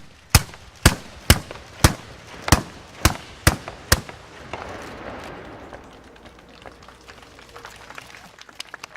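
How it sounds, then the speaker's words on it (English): Ceremonial matchlock guns fire at a battle memorial in Shinshiro, Japan, with eight sharp loud reports in a quick, fairly even sequence, followed by a fading rumble and softer crowd noise. "A ceremonial demonstration of matchlock guns is held in condolence of the many lives lost here"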